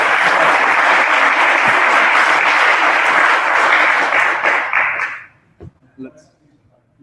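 An audience at a 2014 school ed tech expo claps loudly for Brandon, a dense sustained round of applause that fades out after about five seconds into near quiet with a few stray sounds.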